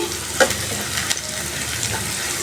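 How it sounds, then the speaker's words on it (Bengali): Onions fry in a pan for a spiced fish bhuna, with a constant close sizzle and a couple of brief spatula scrapes as they are stirred. "এখন পেঁয়াজগুলো আমার ভাজা হয়ে গেছে প্রায়।"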